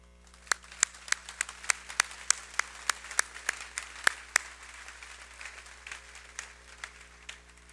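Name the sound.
audience applause after chamber choir performance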